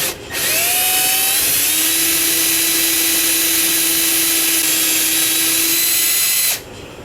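An M5 x 0.8 tap, driven by a power tool, cuts threads for a small bolt during an engine-bay PCV valve repair. The tool spins up into a loud, steady, high whine that holds for about six seconds before stopping abruptly.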